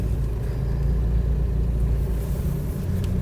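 Isuzu D-Max 1.9 pickup truck cruising along the road, heard from inside as a steady low engine rumble and road drone with no talk and no sharp changes.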